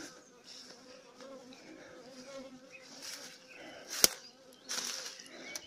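Honeybees buzz steadily around tall multi-storey beehives in an acacia-season apiary, a dense close hum of many wings with one sharp click midway and a swelling buzz near the end.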